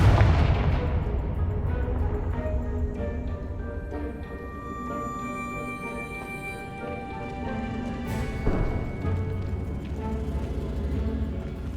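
Confringo fire spell blasts in the Hogwarts Legacy game, a dense booming roar of blasts and rumbling under a game music bed, loud and continuous, with another sharp burst near the end.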